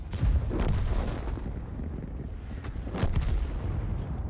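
Tank guns booming in the game World of Tanks, firing the Object 703 II's double-barrel shot, with a heavy low blast near the start and another around the three-second mark over continuous rumbling battle noise.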